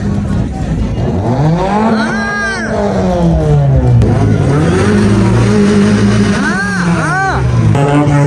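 Cars rev their engines at the entrance of an auto show in Bahawalpur, loud and sustained with rising and falling engine pitch, amid crowd chatter and voices.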